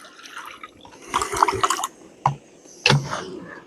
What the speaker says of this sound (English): A little bit of water in.